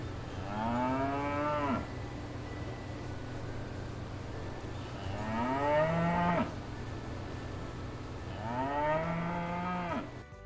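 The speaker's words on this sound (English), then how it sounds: "First one, the Gentile cow." Three long, loud moos from a cow repeat at even intervals, each a deep, rising-and-falling call over a low steady background hum.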